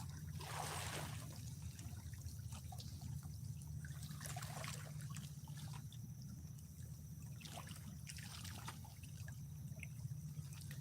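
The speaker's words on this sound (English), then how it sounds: "We keep on getting barges come through." Barges pass on the Ohio River at Louisville, Kentucky, a low steady engine rumble drifting from a distance beneath lapping, trickling water at the bank, faint but continuous.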